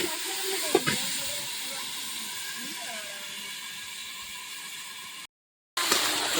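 Papaya added to fried onions in a pan sets off a steady, bright sizzling hiss that runs nearly the whole time, broken by a couple of knocks and a brief gap.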